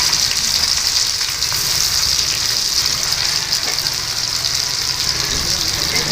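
Onions fry in hot oil in a kadai, a loud, steady hissing sizzle that runs without a break.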